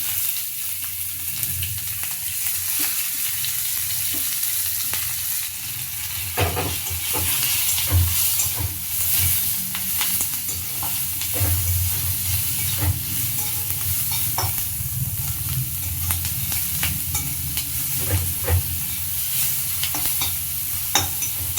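Chopped onions sizzle and fry in a kadai, a steady loud crackling hiss with frequent scraping stirs and clatters throughout, close by and with no talking.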